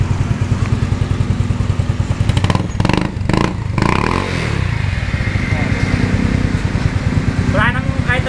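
A Honda... no wait, a Yamaha Mio Sporty scooter idles at close range after CVT cleaning and transmission gear oil work, a steady low rhythmic putter running throughout with someone talking over it partway through.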